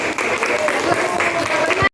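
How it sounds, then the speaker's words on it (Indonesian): Classroom applause from a group of students, a short burst of steady clapping that fills the moment and then cuts off abruptly. "Kasih tepuk tangan dulu untuk semuanya."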